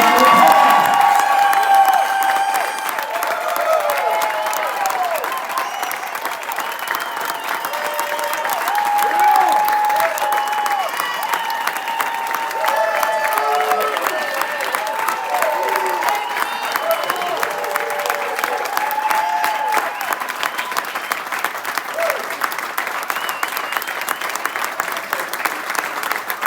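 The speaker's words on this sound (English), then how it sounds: "Everybody get a huge round of applause." A room full of people applauding and cheering loudly as the Nashville SC Unified team enters for its 2025 signing day, a dense sustained clapping roar with shouts and whoops over it.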